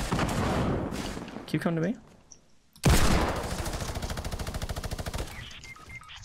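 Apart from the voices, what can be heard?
gunfire in the video game Fortnite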